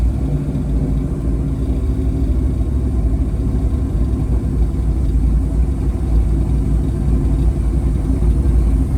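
A 1969 Buick Special Deluxe engine runs on a barely open throttle as it warms up, giving a steady, loud, low rumble that holds without break and with no voices.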